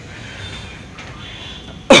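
A single sharp cough bursts out near the end after quiet room tone, loud and close, during a night scene in a film.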